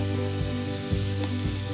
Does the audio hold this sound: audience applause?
no